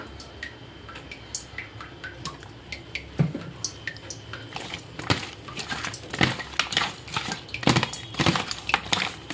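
Raw oil and salt being rubbed by hand onto a good-sized local koi fish from a wetland, giving close, wet squishing and dripping sounds with soft slaps in an irregular rhythm that grows busier and louder toward the end.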